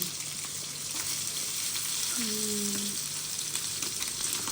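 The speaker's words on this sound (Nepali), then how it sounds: "म त जिरा पहिला हाल्छु क्या त्यो तेलमा चाहिँ फोड्छु प्याज हाल्यो" Cumin and onion frying in hot oil in a pot give a continuous hiss and crackle with a few soft stirs underneath, close by, while a short tonal whine sounds briefly midway and no one speaks.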